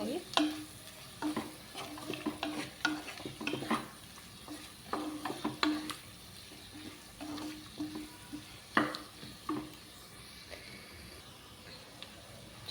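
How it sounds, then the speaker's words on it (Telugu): Bitter gourd tamarind curry stirred with chilli powder in a pan: repeated scraping stir strokes with a soft sizzle, close and steady, no talking. "అంత కలిసిలా కలుపుకోవాలి."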